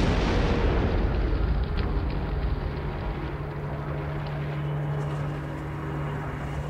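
Bombing explosions in a WWII Japanese air attack on U.S. defenses, heard as a film sound effect. A dense, continuous roar of blasts and rumble stays loud throughout, with a steady low drone underneath.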